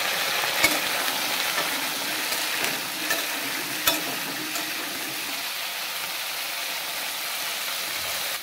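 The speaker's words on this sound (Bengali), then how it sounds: "এখন আমি মাছ ভাজা তেলের মধ্যে আলুগুলা লাল লাল করে ভাজা নিমু" Potato strips fry in oil left over from frying fish, a loud, continuous hiss and crackle close to the pan with a few sharp pops from stirring early on and no voices.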